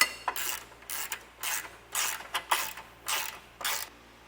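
A ratchet wrench clicks in repeated short bursts while tightening base plate hardware on a 2021 Jeep Grand Cherokee, about eight strokes in a steady back-and-forth rhythm, close up and with no one talking.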